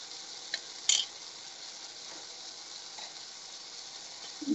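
Tomatoes and capsicum seasoned with salt and sugar fry in a pan with a steady, even sizzle, broken by a few faint clinks of a utensil.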